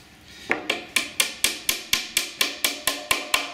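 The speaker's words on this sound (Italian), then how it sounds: "con un colpo leggero di martello le incastriamo per bene fino a quando non scendono sotto" Light hammer taps seat parts of a chest of drawers into place during furniture assembly, about a dozen evenly spaced, sharp knocks, close and clear, with no talking.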